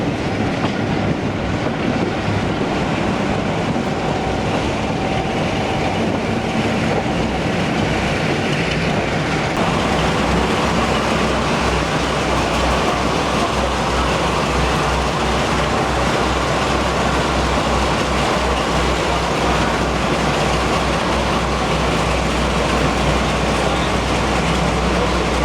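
Riding aboard a heritage diesel train heading to Bury Bolton Street, with a steady loud rumble of the engine and wheels throughout and rhythmic clickety-clack over the rails.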